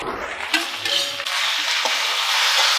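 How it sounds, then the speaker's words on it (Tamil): Grated coconut and tapioca roasting in a pan, a soft steady sizzle with scraping stirs of a spatula close by, no voices. "இப்போது லைட்டாக அந்த தேங்காயை வறுத்து விட்டுக்கலாம்"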